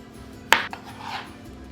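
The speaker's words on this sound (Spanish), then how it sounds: "este lo vamos a cortar en cuadritos pequeñitos" A single sharp knife strike on a cutting board while dicing poblano chile into small squares, followed by a fainter tap and a soft scrape in a quiet kitchen.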